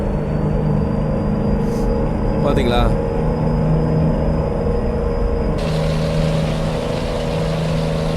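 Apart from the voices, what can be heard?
truck interior engine sound in Euro Truck Simulator 2 video game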